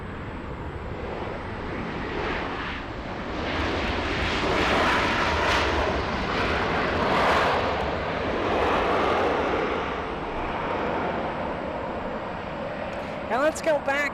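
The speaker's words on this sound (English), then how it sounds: "Up next to land, we have an American Airlines A321neo." An American Airlines Airbus A321neo comes in to land at Los Angeles, its engine roar swelling to a steady peak at mid-distance and then easing, with a voice talking over it.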